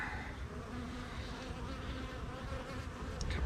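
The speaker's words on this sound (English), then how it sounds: "couple of bees there, nothing too bad." Bees at an opened beehive make a faint, continuous buzzing hum at low level, steady throughout with slight swells, close but quiet.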